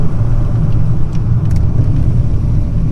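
A cammed Foxbody Mustang 5.0 V8 idles in a steady, loud low rumble with a lumpy, choppy pulse, close by and alone with no talking.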